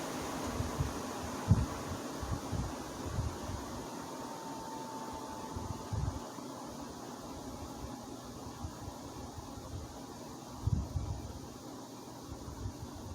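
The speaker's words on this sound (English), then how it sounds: "Has that wind down sound when dropping down to low speed." A Galaxy 16-inch 1980s 2155A reversible window fan drops to its low setting, giving a soft, steady airy whoosh with faint low thumps and a dull mechanical rumble, quiet and close, with no talking.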